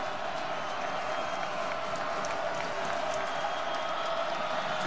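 Football stadium crowd roars steadily in support of the defense on a third down, a dense, continuous wall of cheering and applause with no break.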